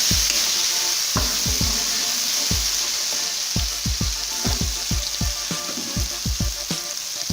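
Red chili powder being stirred into sizzling chicken biryani masala in a pan, village-style cooking: steady frying hiss with a series of sharp spoon scrapes and taps against the pan, loud and close, no talking.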